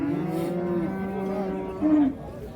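Cattle low nearby at a livestock market in Olot, Bukhara, a long drawn-out moo followed by a shorter, louder one, with no talking.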